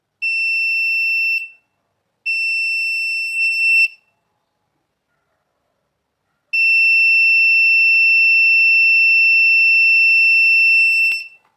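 Buzzer of an Arduino-based MQ2 smoke detector project sounding in shrill, loud electronic tones: two short bursts about 1.5 seconds each, a pause, then a long continuous tone, with no talking.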